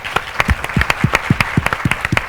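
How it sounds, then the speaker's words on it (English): An audience applauds, a brief burst of brisk clapping from a crowd at a live conversation event, fairly close and dense. "Big round of applause."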